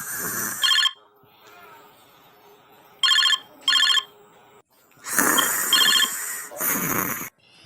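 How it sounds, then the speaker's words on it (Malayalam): A phone rings in repeated electronic bursts, several separate rings with pauses between them, loud and close, with some talking in between. "ചേട്ടാ നിന്റെ ഫോൺ എടുക്കണ്ടടാ."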